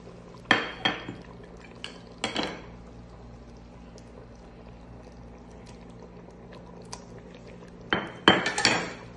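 A cooking pot of jareesh gets its lid set on with a few sharp metallic clanks, clustered at the start and end with quieter kitchen clatter between.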